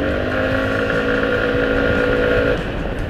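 Rusi XDV 175 scooter accelerating in traffic, its engine note climbing steadily and loudly up close, with wind rushing past the microphone.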